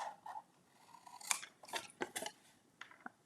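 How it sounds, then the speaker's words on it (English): Scissors snip through a cardboard treat box in short, crisp cuts, a few separate snips and crunchy bursts spaced unevenly, close and fairly quiet with no talking. "now we are done cutting our box out"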